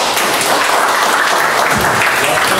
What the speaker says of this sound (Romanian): Îl aplaudăm pe Alex, vă rog.